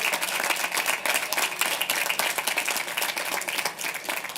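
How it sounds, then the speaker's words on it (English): Commencement audience at a college graduation claps in a dense, sustained round of applause for the graduates, with loud, even clatter throughout and no pauses. "Please, another round of applause for all of our wonderful graduates."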